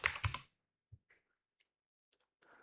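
A password is typed on a computer keyboard, a short quick flurry of clacking keys followed by a few sparse, faint clicks in a quiet room.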